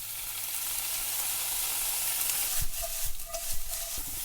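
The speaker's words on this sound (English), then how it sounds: "Now we are frying now." Mustard leaves fry in a pan with soy sauce and rice wine vinegar, giving a steady, loud sizzle with a few clinks and stirring knocks near the end; no talking.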